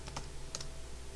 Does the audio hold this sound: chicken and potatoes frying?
no